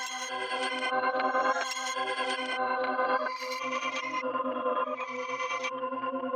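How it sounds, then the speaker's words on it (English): Reversed version of a re-exported halftime, reverb-soaked synth melody built in FL Studio, with swelling bright chord tones that rise into abrupt cutoffs over a soft pulsing low note, continuous and alone. "Re-export that, hit reverse."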